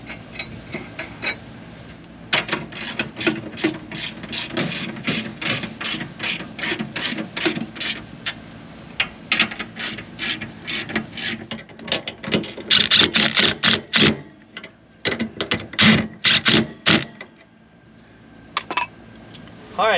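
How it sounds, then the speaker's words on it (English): A hand ratchet clicks in quick repeated bursts while tightening the leaf spring shackles on an RV suspension, loud and close, with short pauses between strokes and some metallic clinks. "then we can tighten the shackles back up"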